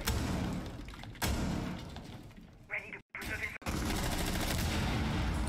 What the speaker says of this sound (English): Let's hear gunfire.